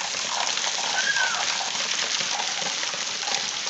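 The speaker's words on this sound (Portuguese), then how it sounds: "Uma chuva agora que fechou. Aqui Pernambuco. Litoral." Steady afternoon rain falls on the coast of Pernambuco, a dense, even hiss of drops close by, continuous and unbroken for a few seconds.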